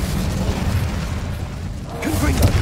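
Incendio fire spell cast in the Hogwarts Legacy video game, a dense rumbling burst of flame with a low booming body that swells again near the end.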